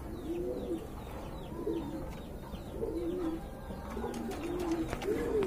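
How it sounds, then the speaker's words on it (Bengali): Jacobin pigeons, one almond tiger and two black, coo softly in repeated low rolling phrases among a group of birds at a pigeon sale, with faint chirps and background noise and no talk. "এখানে কিন্তু 3 পিস জ্যাকোবিন কবুতর রয়েছে"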